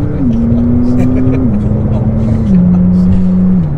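A 2018 McLaren 570S Spider supercar drives along with a loud, steady engine drone that steps down in pitch through gear changes, while someone talks over it.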